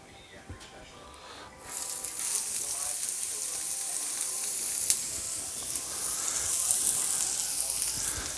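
Vegetables hitting hot stir fry oil on a Blackstone griddle, a sudden loud sizzle that starts after a quieter moment and keeps hissing steadily with some scraping.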